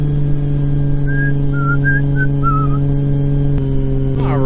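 Steady engine drone with strong low harmonics from a car running on E85 fuel in second gear, a faint whistling tone riding above it, and a sharp transient near the end.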